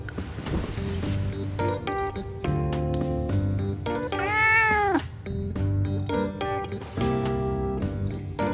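In the Love and Deepspace video game, a cat lets out one drawn-out meow with a rising and falling pitch, heard over bouncy game music and sound effects.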